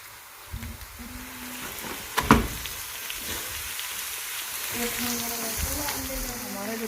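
Minced meat (keema) sizzling and frying with onions that have turned light pink, a steady hiss with stirring and clatter, a louder burst around the middle, while a voice talks over it.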